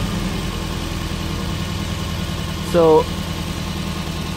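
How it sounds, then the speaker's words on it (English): A Toyota minivan engine idles steadily with its PCV valve pulled out, a constant low droning hum close to the microphone, while someone speaks briefly over it. "So when pulling the PCV, the idle goes up."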